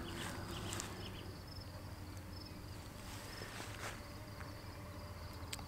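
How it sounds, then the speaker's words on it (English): Faint, distant high-pitched peeping of spring peepers at a wildlife pond after sunset, over a steady outdoor night hum, with scattered chirps and no talking. "I can hear some spring peepers calling in the distance."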